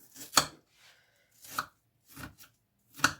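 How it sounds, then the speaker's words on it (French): Half an onion is chopped into small pieces with a knife on a board, giving about five sharp, close chopping strikes at an uneven pace with quiet gaps between them and no talking. "Là, je vais prendre la moitié de l'oignon que j'ai pris tout à l'heure. Et je vais le couper en tout petit bouts."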